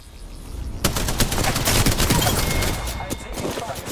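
Rapid bursts of automatic gunfire in Apex Legends, with a Mastiff shotgun in the fight, crackling loud and close in a dense volley that keeps going to the end, with a voice speaking over part of it.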